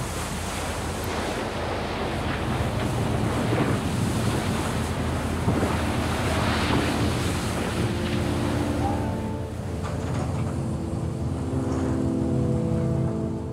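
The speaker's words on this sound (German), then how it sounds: "85 Knoten Windstärke, fast 160 Stundenkilometer. Haushohe Wellen, ein Orkan." Hurricane-force wind roars across a trawler at sea off the Faroe Islands as huge waves crash and surge, a loud, continuous close rush of wind and breaking water with no pause.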